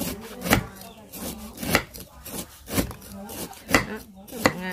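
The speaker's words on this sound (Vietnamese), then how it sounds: "các bạn sắc sả cho nó mỏng mỏng như thế này" A knife slicing lemongrass thinly on a wooden cutting board, with five or six sharp, evenly spaced chops close by and soft scraping between them.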